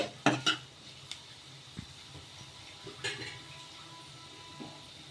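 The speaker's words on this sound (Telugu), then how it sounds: "అలాగే కొద్దిగా కరివేపాకు వేసుకొని ఒకసారి బాగా కలిపేసుకుందాము." A spoon scrapes and clinks against a pan while grated carrot, chopped onion and curry leaves are stirred, with a few sharp metallic taps near the start and a faint sizzle beneath, quiet and close, no voices.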